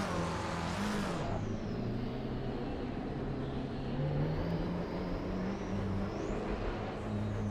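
A GT race car engine drones loudly and steadily in Assetto Corsa Competizione at Watkins Glen, with one sharp rev flare at the start and then a sustained high-rpm roar with gear shifts, and no talking.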